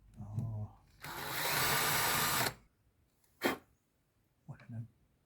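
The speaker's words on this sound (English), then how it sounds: "Probably should have drilled those holes before I oiled the base." A power drill bores holes in an oiled teak wood garden furniture base, one loud, steady burst of about a second and a half, close by, with short vocal sounds and knocks before and after.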